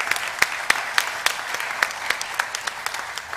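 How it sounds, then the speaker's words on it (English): Scattered applause at a computer science education press conference: a modest group claps, with distinct sharp individual claps standing out over a softer wash, fairly steady throughout. "That deserves a round of applause."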